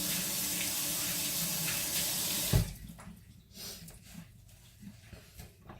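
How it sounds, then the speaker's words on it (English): Tap water runs loudly into a kitchen sink as hands are rinsed during tofu taco crumble preparation, a steady hiss that cuts off abruptly with a clunk partway through, leaving faint handling noises. "Let me rinse my hands."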